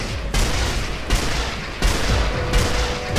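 Four loud, evenly spaced gunshots in Sniper Elite: Nazi Zombie Army, during a subway boss fight. Each is a sharp crack with a reverberating tail, roughly three-quarters of a second apart.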